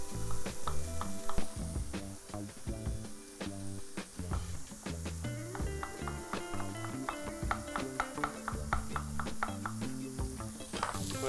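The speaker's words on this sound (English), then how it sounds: "So we've got the mushrooms cooking down nicely." Mushrooms cooking down in a hot pan, sizzling steadily and frying with a continuous crackle, with the rhythmic scrape and clatter of stirring in the pan throughout, close and fairly loud.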